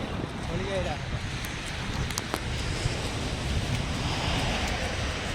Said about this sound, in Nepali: अहिले त चिसो हावा बग्न थाल्यो।